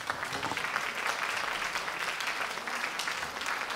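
An audience applauds in tribute at a 1960s music show, a dense, even wash of clapping that holds steady from start to finish, full and moderately loud.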